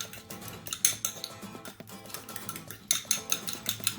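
A utensil mixes mayonnaise and garlic in a dish for a big sandwich, giving repeated scraping and clinking strokes of metal against the bowl at close range in an irregular rhythm, with no talking.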